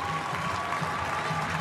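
Crowd in Štark Arena, Belgrade, cheering and applauding at an indoor women's high jump final, a steady broad wash of noise heard from a distance and fairly faint, with no clear voices standing out.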